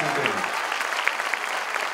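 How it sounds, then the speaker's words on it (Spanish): An audience applauds for the municipal president of Puebla at a health centre handover ceremony, steady dense clapping throughout with a voice speaking over it. "para quien pedimos un fuerte aplauso en esta entrega."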